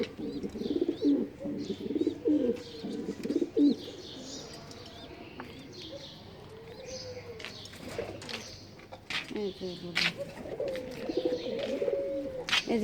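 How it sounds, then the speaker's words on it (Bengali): A pet pigeon coos nearby in repeated soft, throaty bursts, pausing briefly in the middle before resuming, with faint chirps in the background. "আমার এই কবুতরটা সুন্দর কবুতরটার দুইটা বাচ্চাই মারা গেছে ঠান্ডায়"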